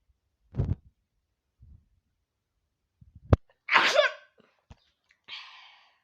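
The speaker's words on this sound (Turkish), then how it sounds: "Hapşıracağım." A single loud sneeze up close, preceded by a few quiet breaths and small clicks, followed by a brief exhale.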